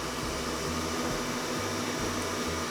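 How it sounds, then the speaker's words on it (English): An electric mixer whisks meringue, a steady, loud mechanical whir with a low rhythmic pulsing that holds evenly throughout, with no voices. "the meringue has now been whisking for 2 to 3 minutes"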